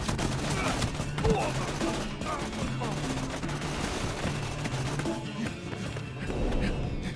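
Gunfire in the Tales from the Borderlands video game: rapid bursts of shots and clattering automatic fire crackle repeatedly over several seconds, with low thumps and a background hum beneath.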